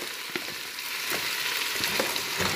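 Pork ribs and cassava sizzling loudly in a hot pan, with a steady broad frying hiss and a few soft scraping clicks as the pieces are stirred, no voices.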